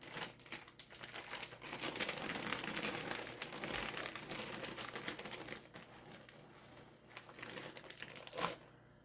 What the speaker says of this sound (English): I'm just going to go through and add half of each chip bag